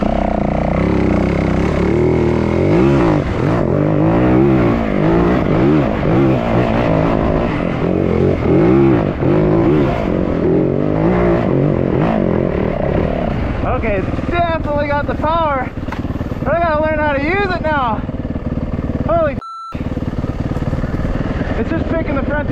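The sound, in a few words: uncorked WR450F dirt bike accelerating through gears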